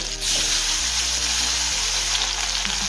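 Black cumin seeds, four green chillies and a medium tomato hit hot oil in a pan, giving a loud, steady close-up sizzle that carries on without a break.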